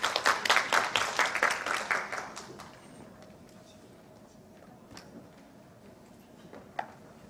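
A conference audience at a village community and social economy forum applauds to welcome a keynote speaker, a dense burst of clapping for about two seconds that thins out and fades, leaving a quiet room with a few faint knocks.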